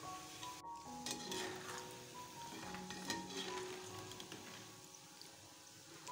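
Peanuts frying on low heat, a faint, even crackle and sizzle with light stirring clinks, no voices present.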